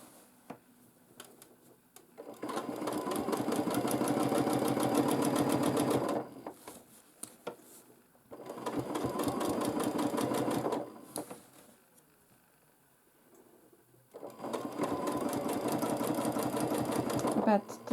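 Sewing machine quilting a baby quilt runs in three long steady bursts of rapid stitching, loud and close, with quieter pauses and a voice talking between runs.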